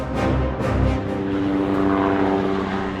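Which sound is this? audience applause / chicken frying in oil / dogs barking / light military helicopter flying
light military helicopter flying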